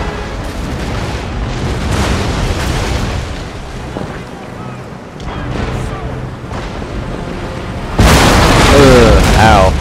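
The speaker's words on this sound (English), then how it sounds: "Oh, ship's exploded." Ship exploding in a naval battle in Empire Total War, rumbling cannon booms and crackling battle noise building and fading, then a sudden loud blast near the end, with a voice talking over the din.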